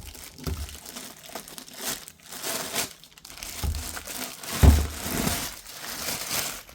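A plastic bag crinkles and crunches as a barcode system device is unpacked from its box, with irregular rustling bursts and handling noises throughout, close up and without talk.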